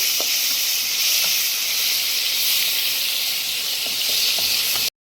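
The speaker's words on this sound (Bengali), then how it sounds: "ক্যাপসিকামগুলো দিয়ে দিলাম, এগুলো একটু ভেজে নেব।" Capsicum frying in a pan after beans for a vegetable dal, a loud, steady close hiss and sizzle with a few small pops and crackles, cutting off abruptly at the end.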